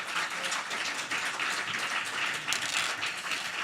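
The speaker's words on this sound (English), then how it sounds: "another round of applause for this great panel" An audience at an education discussion on New Jersey's workforce applauds a panel, a busy, even rattle of many hands clapping throughout, close and fairly loud, with no talking.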